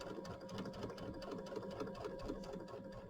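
Home sewing machine stitching a mini quilt with a slightly lengthened stitch, a steady close whirring hum with fast rhythmic needle clatter running continuously on its own.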